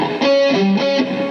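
A short run of distorted electric guitar notes from the lead part of a song, alternate-picked in quick succession, bright and close, with no voices.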